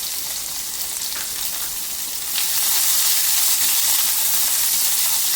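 Chopped onion dropped into hot oil with mustard seeds and urad dal for a Udupi-Mangalore style sambar: a steady, bright sizzle that grows louder partway through as the onion goes in, close up and with no talking.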